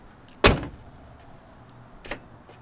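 An old OBS Ford truck's keyless entry fires its door locks with a sharp, loud mechanical clunk, followed a moment later by a second fainter click, in a quiet setting.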